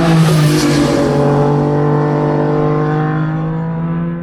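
Motorbikes racing along a road, a loud, sustained engine drone with a steady, slightly falling pitch that slowly fades as the machines pull away.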